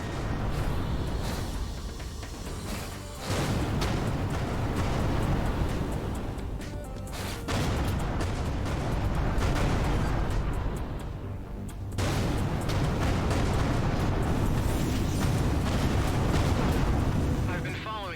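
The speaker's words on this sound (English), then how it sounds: "Explosion imminent." Loud, sustained explosions in a video game rumble through most of the stretch, with heavy booming bursts and brief drops between them; game dialogue is spoken over parts of it.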